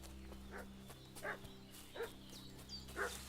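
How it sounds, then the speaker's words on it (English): A dog in Kingdom Come Deliverance 2 barks in a village at night, four or five short yips spaced about a second apart, moderately distant over a low steady hum. "What's that dog making such a fuss about?"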